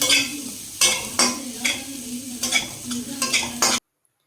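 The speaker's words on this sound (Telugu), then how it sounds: "ఫ్రై చేసినటువంటి చికెన్ ముక్కలు, అలానే ఎగ్ పొరటు వేసుకొని బాగా కలుపుకోవాలి." Fried chicken pieces and scrambled egg are stirred into fast-food style chicken noodles, with rhythmic scraping spatula strokes in a pan over a steady loud sizzle. The sound cuts off abruptly.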